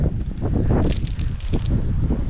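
Strong gusty wind buffets the microphone at night while fishing, a loud rumbling roar that swells and dips unevenly throughout.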